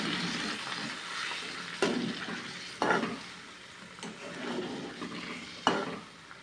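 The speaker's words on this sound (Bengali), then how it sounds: "ভালো করে একটু নাড়াচাড়া করে শুকনো শুকনো করে নামিয়ে নিয়ে দেখাবো তোমাদেরকে" Boiled potatoes and fried peas stirred in a pan for aloo dum, a steady hiss of frying broken by several scraping strokes of the spatula at irregular intervals, close and moderately loud with no talk.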